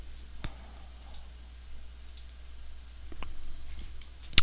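Sparse, sharp mouse clicks sound against a quiet, faintly humming background: a few isolated taps spread over several seconds, with a louder click right at the end.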